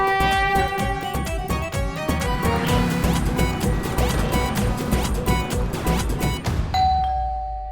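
Doorbell ringing repeatedly in a rapid, insistent series of bright electronic chimes, loud and close, continuing for several seconds before a final sustained tone.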